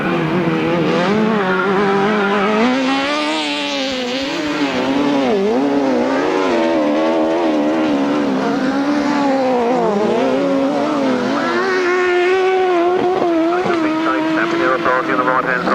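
Sidecar motorcycles race on a grasstrack, their engines whining and revving continuously. The pitch rises and falls as the outfits pass, and a commentator talks over the steady racing noise.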